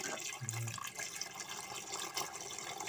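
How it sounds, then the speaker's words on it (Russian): Cold water filling a pressure cooker that holds meat for aspic (kholodets), a steady running pour close by, with no talking over it. "Вкладываем все в скороварку и наполняем холодной водой."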